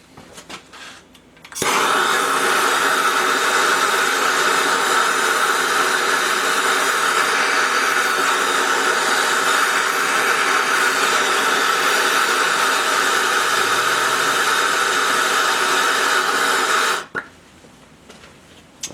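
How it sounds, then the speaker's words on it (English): Steady roaring hiss of a MAP gas torch heating a connecting rod during a GM 4.3 Vortec V6 engine rebuild, starting abruptly, holding constant and loud for about fifteen seconds, then cutting off. "I'm going to heat that connecting rod."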